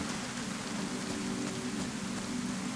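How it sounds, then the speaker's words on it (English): Steady in-game rain in the video game Deadfall 2 falls in a continuous hiss, an even wash of drops on surfaces with no voices over it. "Alright, we got rain on Deadfall 2."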